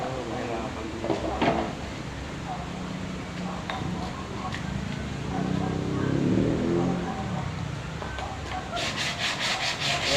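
Steady rubbing and scraping of sandpaper on a wooden cabinet, rhythmic back-and-forth strokes close to the microphone, with someone talking now and then.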